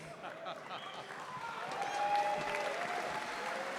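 Crowd applause at a live wrestling event, a broad steady wash of clapping and cheering that swells slightly midway, with voices mixed into the noise.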